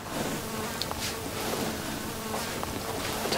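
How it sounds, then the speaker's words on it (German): A fly buzzes close by outdoors, a continuous droning hum that swells and fades slightly as it moves around, heard over steady broadband background noise. "diese Fliege"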